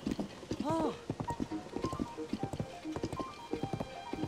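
Horse hooves clip-clop in The Legend of Zelda: Tears of the Kingdom, a steady, fairly close run of rhythmic thuds under continuous talking.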